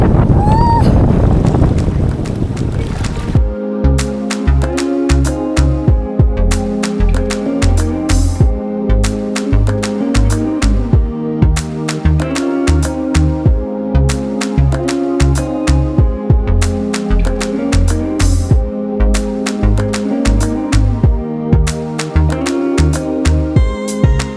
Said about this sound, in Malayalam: ഇതാ ഇപ്പം ഇവിടുത്തെ കാറ്റ്